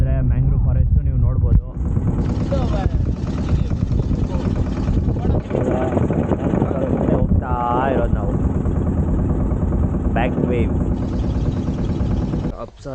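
A motorboat on the Sharavati river near a mangrove forest drones loudly and steadily close by, with wind buffeting the microphone and brief voices heard over the engine.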